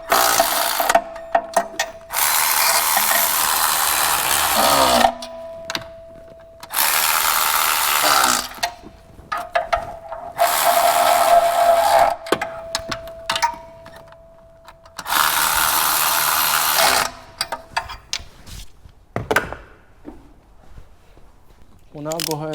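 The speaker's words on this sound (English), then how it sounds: "I'm gonna go ahead and tighten all 5 of these 14mm nuts, working from the center out." Ratchet wrench tightening five 14mm nuts on a 2016+ Mazda MX-5 Miata clutch, sounding in several long bursts of rapid clicking separated by pauses, fairly close and loud.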